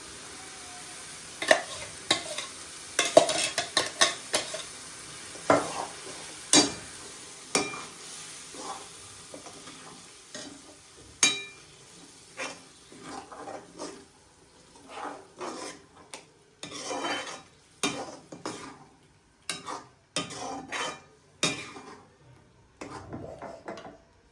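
Repeated spoon scrapes and clacks against a pan in a steady stirring rhythm as blended boiled spinach cooks, with a soft sizzle underneath.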